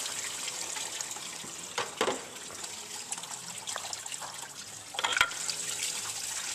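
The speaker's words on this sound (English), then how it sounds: "Let it drain out the rest of the way" Coolant trickles and drips steadily from a removed water pump on a 2006 Toyota Sienna 3.3L V6, close by, with a few small clanks and splashes along the way.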